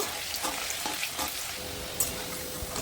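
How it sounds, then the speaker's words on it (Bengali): Potatoes fry in hot oil with a steady sizzling hiss, scattered pops and spatters, and occasional scraping of stirring, close and alone without talk. "আলুগুলো আমি বেশ ভালো করে ভেজে নেব।"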